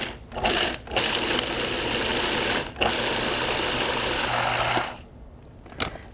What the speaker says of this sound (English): I'm just going to put the lid on my food processor and pulse it a few times.